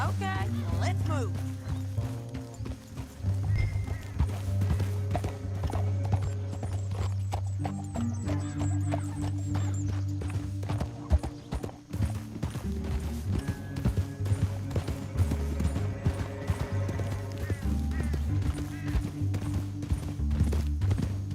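Horse hooves clip-clop steadily through a Red Dead Redemption 2 scene, with a horse whinnying, layered under a game score and characters talking.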